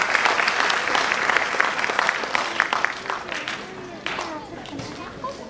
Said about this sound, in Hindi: आप सबकी यदि तालियां बज जाएं इस प्रोग्राम को शुरू करने से पहले